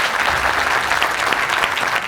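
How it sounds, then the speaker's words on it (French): Audience applause in a large theater at a film event, a loud, dense, continuous roar of many hands clapping throughout. "Est-ce qu'on peut applaudir ces messieurs ainsi que toute l'équipe qui a tourné"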